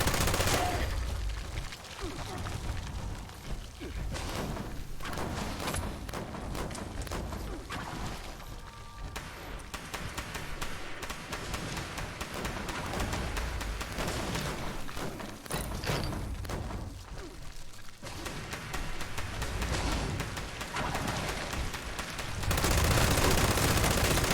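Rapid gunfire in Fallout 76 during a vault raid, dense bursts of shots and heavy thuds that run almost without a break, loud and close, with a brief lull near the end before firing resumes.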